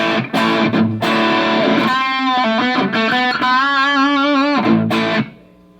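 A distorted electric guitar through an amp's crunch channel with the gain raised plays crunchy, overdriven chords and a sustained bending note, loud and alone, ending abruptly.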